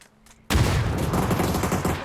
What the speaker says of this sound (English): Pretty fireworks. We like fireworks.